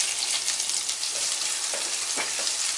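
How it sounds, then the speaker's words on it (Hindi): Finely chopped medium onion frying in a pan with cumin for quinoa vegetable pulao, a steady close sizzle with occasional stirring scrapes. "लाइट ब्राउन होने तक प्याज को भून लेते हैं।"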